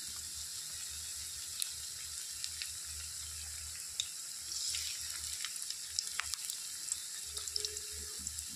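Pointed gourd fritters (potoli) puffing up in hot oil give a soft, steady sizzle with faint crackles and a few light clinks, heard alone at moderate distance.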